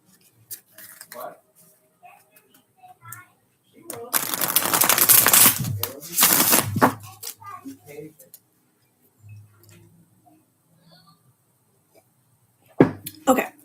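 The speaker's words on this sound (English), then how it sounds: "One more little shuffle." Tarot cards being shuffled, two bursts of loud, close riffling and slapping lasting a second or two each, with quieter card handling and a voice talking around them.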